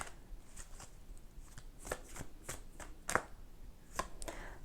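Tarot cards being shuffled by hand, a run of sharp papery riffles and slaps in uneven bursts, close and fairly quiet with no talking.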